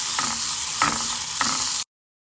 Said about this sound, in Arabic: عليها الثوم، اقلبها شويه وحشيلها